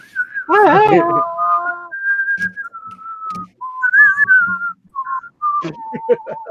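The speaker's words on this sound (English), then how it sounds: "They were whistling the freaking theme from The Good, the Bad, and the Ugly." People whistle the theme from The Good, the Bad and the Ugly, several clear sustained notes rising and falling, with short bursts of talking and laughter between phrases.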